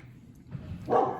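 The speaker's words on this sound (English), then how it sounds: "I apologize for my dog barking" A dog barks once, short and muffled at a moderate distance, rising out of a low, murky background hum. The bark is brief and comes near the end.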